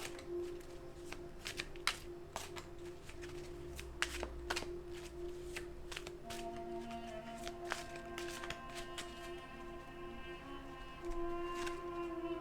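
Tarot cards being shuffled by hand make a long run of crisp riffles and taps, with sharp card snaps scattered among soft papery rustling, close and fairly quiet.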